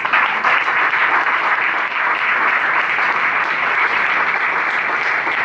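Loud, sustained applause from a church congregation during a Sunday sermon, dense steady clapping filling the space without break for several seconds.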